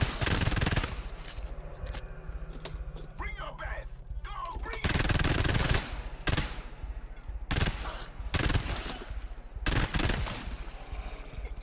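Gunfire in the co-op shooter game GTFO, with dense rapid automatic bursts and heavy single shots that go on almost without a break, loud and close, as players talk over it.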